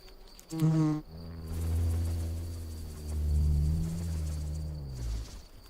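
A wild bee buzzes close by as it builds its nest in a shell, stocking pollen. A brief high whine comes first, then a sustained, wavering low drone that rises and falls for several seconds.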